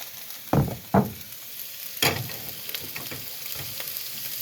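Olive oil crackles and sizzles in a skillet, with a few sharp spatters and clatters of stirring standing out early on, then a steady frying hiss.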